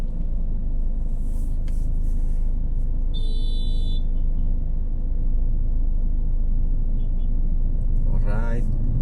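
Road traffic around a truck driving toward Taguig and Pasig, with a constant loud engine rumble and road noise, a couple of brief high-pitched squeaks midway and a short burst of rising sound near the end.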